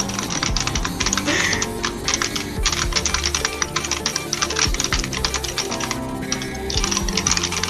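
Fast, continuous clattering of computer keys, loud and close, with a steady hum underneath.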